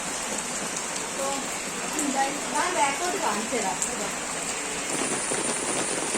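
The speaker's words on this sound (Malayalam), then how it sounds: "മഴയാണ് നിൽക്കുന്നില്ല ഒടുക്കത്തെ മഴ" Heavy rain pours down without letup in a dense, loud, even hiss of drops hitting the surfaces nearby. A faint voice briefly surfaces under the downpour.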